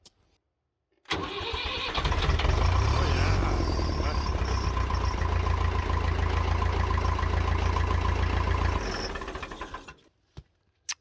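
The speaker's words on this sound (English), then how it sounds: "I've never heard the starter on this tractor run like that" A farm tractor in northern Sweden, running on fresh batteries in a dual-battery setup after its fuel system was bled, cranks briefly and fires into a loud, steady running engine close by, which runs for several seconds before cutting out.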